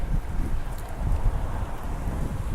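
Strong wind buffeting the microphone, a continuous low rumbling roar with gusty fluctuations throughout.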